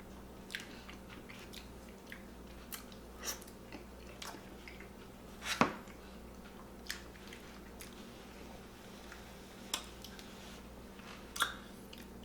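Someone chews a first bite of smoked, peppery mac and cheese from a Las Vegas barbecue spot. Quiet, close, moist mouth sounds come with scattered soft clicks and squishes over a dozen seconds, and no one speaks.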